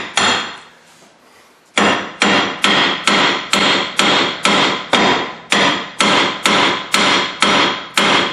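Hammer pounding on the front wheel bearing of a Chrysler 300M, starting after a short lull and then striking about a dozen loud, sharp metallic blows in a steady rhythm, close up and alone.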